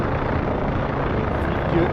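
An OH-6 helicopter in DCS World flight simulation gives a steady rotor and engine drone, loud and constant throughout with no break.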